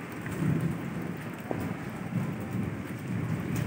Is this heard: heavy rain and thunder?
yes